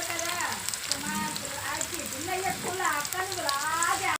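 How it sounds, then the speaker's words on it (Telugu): Onion pieces dropped into hot oil for a ladies finger curry, giving a loud, dense, continuous sizzle and crackle close by, with someone talking over it throughout. "బెండకాయ గిరికి ఉల్లిపాయ ముక్కలు కోసుకున్నాం కదండి. నూనె మరిగింది వేస్తున్నామండి"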